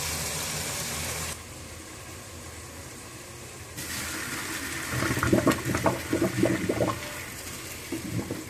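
Boiled daal (lentils) is poured through a strainer: a rushing stream of water that stops, resumes, and then gives way to uneven splashing and gurgling as the liquid drains.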